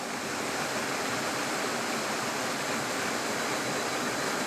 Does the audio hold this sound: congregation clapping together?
no